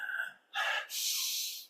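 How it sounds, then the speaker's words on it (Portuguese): A singing teacher demonstrating noisy inhalation: two loud, breathy, rasping intakes of air in quick succession, close to the microphone, following a brief sung or voiced tone. "por exemplo, respiração ruidosa,"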